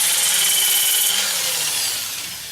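Wood lathe running steadily as a turned piece is sanded, a continuous close whirring rub that holds for about a second and then slowly fades as it winds down.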